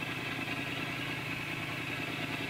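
A motorcycle engine, recorded through an SJ6 action camera's remote microphone while riding, drones steadily and close, a rough continuous exhaust rumble with no pauses and no voices.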